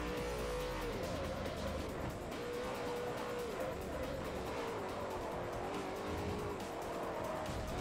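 Race car driven in Forza Motorsport 4, a steady loud engine drone with shifting pitch as it accelerates and brakes through corners, tires squealing at times, no talk.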